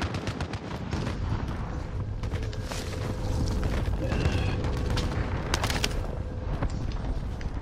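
Gunfire in Call of Duty Warzone Resurgence, a dense spread of shots and booms under steady in-game noise, with several sharp reports standing out over the rumble.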